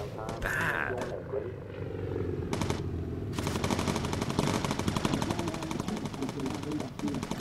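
Machine guns fire in rapid, dense bursts from a World War II bomber's gun turrets in the Bomber Crew game, loud and continuous with aircraft engines droning beneath and someone talking over the gunfire.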